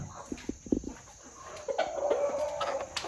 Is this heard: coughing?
no